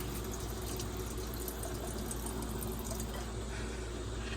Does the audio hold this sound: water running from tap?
yes